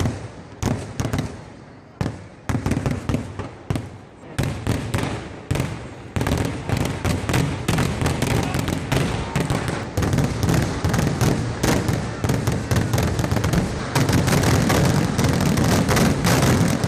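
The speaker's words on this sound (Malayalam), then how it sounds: "തെക്കേ കരക്കാരും വടക്കേ കരക്കാരും തമ്മിലുള്ള മത്സര വെടിക്കെട്ട് ആരംഭിക്കുന്നതാണ്" A competitive fireworks display between two rival groups at a festival: loud, rapid bursts of exploding shells and firecrackers, sparse at first then merging into a dense, continuous barrage of booms and cracks.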